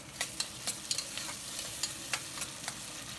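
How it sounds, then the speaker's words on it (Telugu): Carrot pieces are stirred through hot oil with onions for mint rice, giving a steady sizzle. About a dozen sharp scraping stirs of the spoon against the pan punctuate it at an uneven rhythm, with no talking. "ఈ క్యారెట్ ముక్కలను కూడా ఒక్కసారి ఆయిల్లో ఇలా కలుపుకొని వెంటనే ఈ టమాటో పీసెస్ కూడా వేసేసి"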